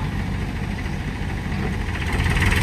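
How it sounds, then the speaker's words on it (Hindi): A heavy diesel tractor engine runs at a steady, rumbling idle close by while stuck in mud, growing slightly louder toward the end, with no voices. "तो ट्रैक्टर स्टार्ट कर दिया है अब पीछे से धक्का लगाएंगे ट्रैक्टर को"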